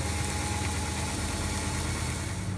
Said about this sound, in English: Sorry about the noise as well, that's the washing machine.